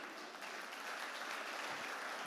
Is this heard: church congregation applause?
yes